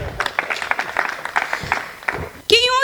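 Audience at a Hindi comic poetry gathering breaks into scattered clapping that builds across a few seconds, then a voice cuts in near the end.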